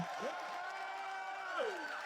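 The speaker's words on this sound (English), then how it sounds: "I'm just gonna let you guys just continue to cheer and shout for that" Crowd at a political rally in Miami-Dade, Florida, cheering and shouting in a steady roar, with a few louder whoops rising near the start and again toward the end.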